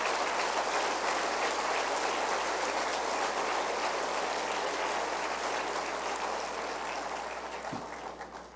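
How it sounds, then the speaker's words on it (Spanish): A church congregation applauds in praise, a dense, even patter of many hands that holds steady and tapers off near the end, with no talking over it. "Denle un aplauso al Señor por eso"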